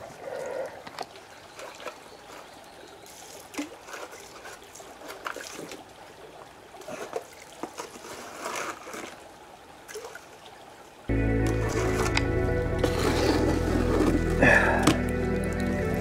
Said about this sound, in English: the water's running a little bit faster now, that's good